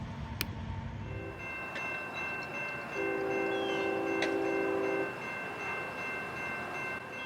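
A CSX freight train rumbles steadily on the S line, with a distant train horn sounding one sustained blast in the middle over the low, continuous rolling noise.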